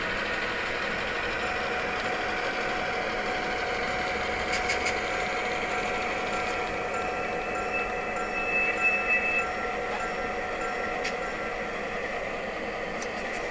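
A model train with a Blunami sound decoder runs steadily on a layout, its engine sound a continuous, even rumble throughout, with no one speaking.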